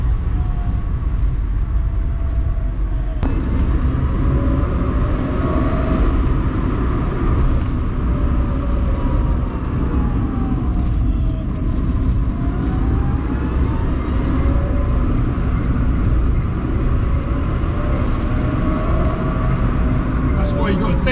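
A performance Renault Twizy drives along with a steady, loud, close electric drone and whine rising and falling with speed, over constant road rumble, while someone talks throughout.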